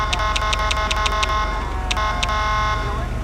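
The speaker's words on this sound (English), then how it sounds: "is my police horn." In the LSPDFR police game, a patrol car's horn gives a rapid series of short electronic honks, then two more blasts after a pause, loud and close over a low engine rumble.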